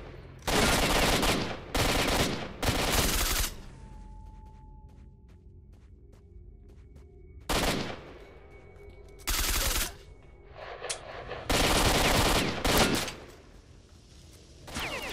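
Several loud bursts of gunfire from the shooter STALKER Shadow of Chernobyl rattle out at close range, separated by quieter stretches of game ambience and faint electronic tones.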